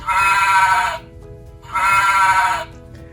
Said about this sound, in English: Did you hear the sound that the sheep made? Ba, ba.